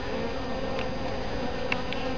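Honeybees buzz around the entrance of a hive, a dense continuous hum close by with individual bees briefly louder as they pass.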